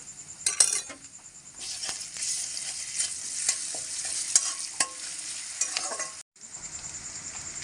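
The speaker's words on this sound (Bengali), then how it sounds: "পেঁয়াজটা ভালো করে ভেজে নিতে হবে" Chopped onion with ginger-garlic paste frying in a wok gives a loud, close sizzle, broken by repeated scraping and clinking of a metal spatula being stirred, with a brief cutoff near the end.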